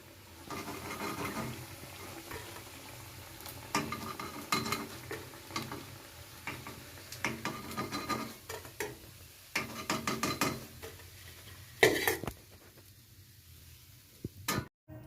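Bread snacks frying in a pan, with soft sizzling under intermittent stirring, scraping and utensil clatter as the pieces are turned and lifted out, close by and moderately loud.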